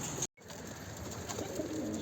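A pigeon coos softly over steady background noise, with a brief dropout near the start.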